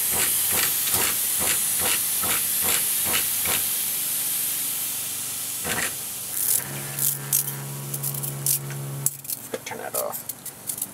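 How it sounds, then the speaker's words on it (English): Old spray bottle converted into a drip irrigation mister, spraying a fine water mist: a rapid run of sharp hissing squirts, a lone spray after a pause, then light plastic clatter and handling noises. "So where we got a fine mist"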